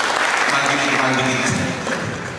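An audience at a talk on technology and social change applauds for a guest named Bang Lindo, a dense wash of clapping throughout with a voice speaking over it.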